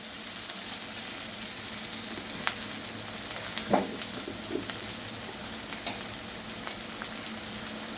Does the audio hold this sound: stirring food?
yes